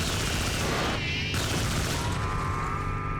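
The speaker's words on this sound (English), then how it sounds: "corner lean Gatling gun" Gatling gun in the video game NARC firing continuously, a dense, steady stream of rapid shots at constant high loudness, with a short break in the rattle partway through before the barrage carries on.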